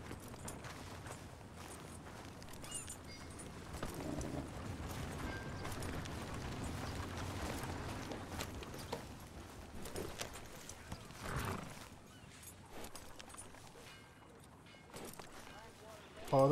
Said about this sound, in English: Thoroughbred race horse.